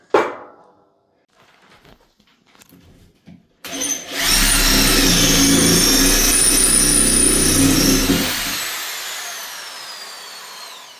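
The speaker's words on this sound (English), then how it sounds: "So we're drilling a hole in the masonry wall" Power drill boring a hole into a masonry kitchen wall for a shelf anchor, a few short taps and bumps, then one loud sustained whining drill run of about four seconds that stops and leaves a fading hum.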